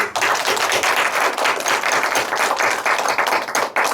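A church congregation claps during a Sunday afternoon worship service, a loud, dense burst of applause that carries steadily through the whole clip with no speech over it.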